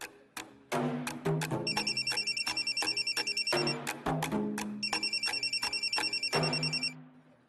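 A telephone rings loudly and insistently in repeated electronic trills, close by, with no voices over it, in a Marathi TV serial scene.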